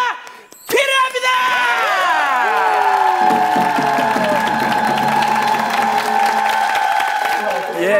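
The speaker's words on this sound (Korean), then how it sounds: "여러분 성민에게 여러분들의 큰 박수가 필요합니다" Audience applause and cheering at a Korean TV talent show stage, a loud, sustained crowd clapping with whoops, layered under bright musical tones that start after a brief pause.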